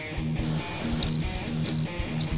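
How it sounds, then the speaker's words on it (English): Crickets chirp steadily in rapid, evenly spaced pulsing trills, loud and continuous with no talking, like a night-time insect chorus. "I hear crickets."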